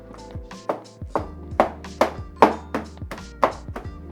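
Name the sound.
smashing hard steamed eggs into potatoes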